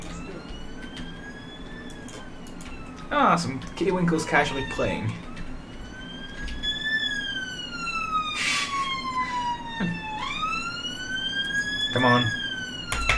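A fire engine siren from the Emergency 4 game with the Norfolk & Suffolk mod wails and sweeps up and down in pitch throughout, with someone talking briefly over it midway.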